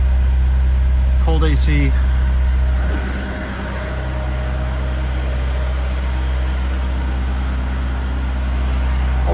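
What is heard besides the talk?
2007 Honda S2000 engine idling after cold start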